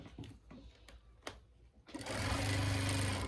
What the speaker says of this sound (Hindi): इस तरह करते हुए इसको यहाँ तक हम सिलाई लगा देंगे, ताकि हमारी जेब का हिस्सा बाहर से नजर ना आए।